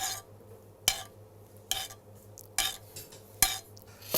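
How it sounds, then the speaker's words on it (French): A spoon clinks steadily against a pan, roughly once a second, while melted butter is spooned over a trout fillet to glaze it with a reduced fish stock. A faint sizzle sits underneath. "Le beurre fondu, on va laquer un tout petit peu la truite."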